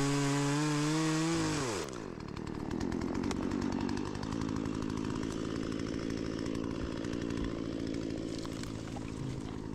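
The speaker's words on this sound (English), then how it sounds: "It's like that classic satisfying sound of a chainsaw going off is somehow pleasing." A chainsaw revs up and then bites into wood while clearing a motocross trail, a loud, steady rasping drone with small shifts in pitch as it cuts, close by.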